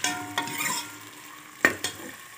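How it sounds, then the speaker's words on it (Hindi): Onions brown in ghee inside a pressure cooker for chana dal, giving a soft, quiet sizzle broken by a few sharp stirring scrapes. "इसमें प्याज शामिल कर दूंगी और इसे हल्का ब्राउन करेंगे।"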